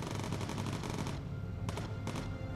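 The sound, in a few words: enemy aircraft gunfire in video game Bomber Crew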